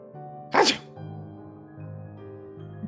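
One sharp, loud sneeze up close, followed by quiet murmuring voices in the background.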